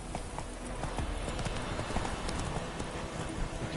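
Hooves of a ridden horse clip-clop at a steady gallop in the Witcher III video game, a brisk continuous rhythm at close range with no talk over it.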